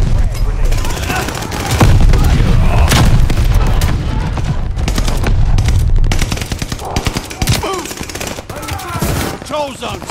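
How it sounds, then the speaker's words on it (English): A frag grenade explosion in a Call of Duty: Vanguard team deathmatch booms out amid dense, continuous automatic gunfire and heavy rumbling, with the whole scene loud and cluttered. "Hostile frag grenade."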